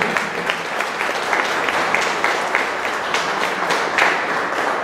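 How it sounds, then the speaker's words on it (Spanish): A crowd at a public meeting in Lurigancho-Chosica about mudslides applauds a district governor, with dense, steady clapping that holds at an even level for the whole stretch and is not masked by speech. "pido un fuerte voto de aplauso"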